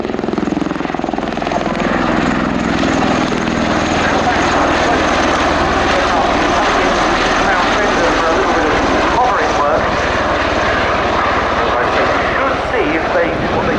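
An Osprey tiltrotor aircraft flies at the Royal International Air Tattoo, its loud, continuous rotor and engine roar shifting slowly as it passes, with a commentator talking over it.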